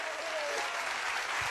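A studio audience at a singing impersonation show breaks into loud, sustained applause, a thick wash of clapping heard up close for a second and a half.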